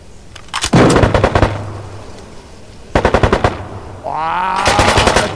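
Rapid automatic gunfire from a first-person shooter video game comes in loud bursts of evenly spaced shots, with further game sounds rising toward the end.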